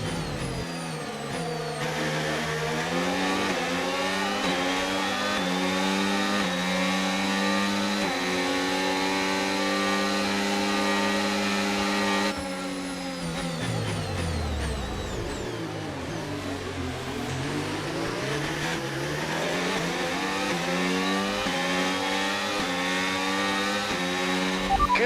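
F1 race car engine in the F1 25 video game at Spielberg, Austria, a loud high-pitched whine rising through the revs, dropping sharply on downshifts mid-way, then climbing again, continuous with no talk.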